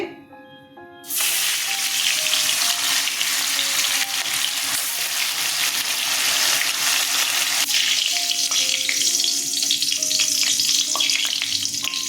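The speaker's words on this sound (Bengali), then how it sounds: "তেল গরম হয়ে গেছে মাছগুলো ছেড়ে দিচ্ছি" Pieces of katla fish drop into hot oil with a sudden loud burst of sizzling, settling into steady, close, crackling frying that stays strong throughout, with no voices.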